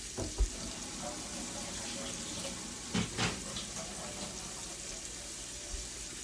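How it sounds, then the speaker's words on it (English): Water running steadily from a tap for handwashing in a home kitchen, a constant hiss with a few soft clunks and splashes, fairly quiet and unbroken throughout. "I'm gonna wash my hands."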